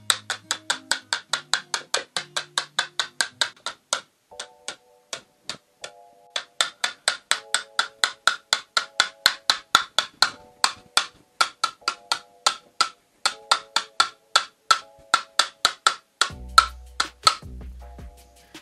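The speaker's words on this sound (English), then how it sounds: "you could begin sifting your flour, baking powder, soda," A sifter works flour, baking powder, soda and salt for banana nut chocolate chip muffins, making a long run of rapid, evenly spaced clicks. A dull thump comes near the end.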